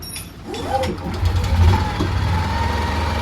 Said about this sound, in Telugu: జనరేటర్ స్టార్ట్ అయిపోతుంది. సౌండ్ చూడండి వస్తుంది కదా